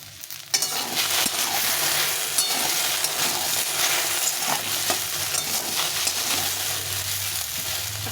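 Chopped vegetables for a jackfruit-seed, taro and Malabar spinach chorchori fry in a pan with mustard, a loud continuous sizzle under frequent close stirring and scraping, with no voices.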